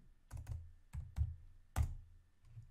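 Soft clicks from typing on a computer keyboard, a few separate keystrokes and short doubled taps spaced irregularly, close but quiet, with no talking.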